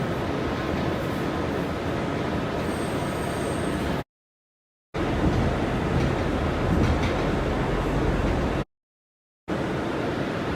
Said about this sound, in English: This is a Far Rockaway, Mott Avenue-bound shuttle train.